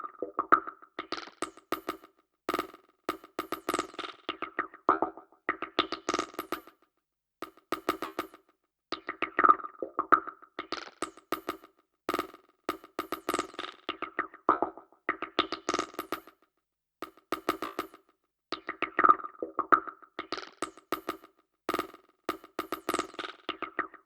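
A Logic Pro delay effect with randomly switching delay times, producing bursts of repeating echoed tones in irregular patterns, separated by short gaps, fairly quiet and alone.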